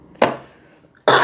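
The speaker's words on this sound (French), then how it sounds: "Pardon, je tousse." A person with a cold coughs twice, two sharp, close bursts separated by a short quiet gap.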